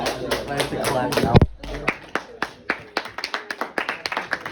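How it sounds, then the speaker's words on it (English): After a student presentation, sharp individual hand claps ring out in a quick, rhythmic series, preceded by a burst of close talk and a loud clack, the claps continuing steadily and close by. "I have to clap now."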